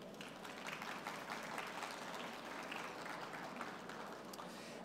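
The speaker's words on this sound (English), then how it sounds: "So we want to give them a round of applause." Audience applause at the KBIS kitchen and bath industry show, honoring sponsors of the NKBA Thirty Under 30 program: a steady, dense wash of clapping from a sizable crowd, sustained for several seconds without a break.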